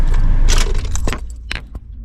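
Car engine switched off and the ignition key pulled out on a vehicle fitted with a digital head-up display speedometer, giving a few close metallic key jangles and clicks over a fading low hum.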